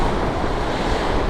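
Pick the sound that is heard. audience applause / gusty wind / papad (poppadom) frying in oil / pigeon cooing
gusty wind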